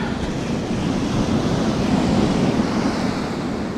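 Ocean surf rolls steadily onto Canggu beach in Bali at sunset, a continuous loud wash of breaking waves with wind rumbling against the microphone, no voices.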